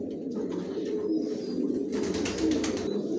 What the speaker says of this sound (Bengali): সব একই লাইনের কবুতর পালি